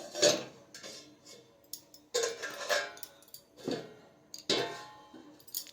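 A cooking pot in a small home kitchen clatters as a metal lid is set on and adjusted, several sharp clinks and scrapes spaced across a few seconds, fairly close and clear with no talking.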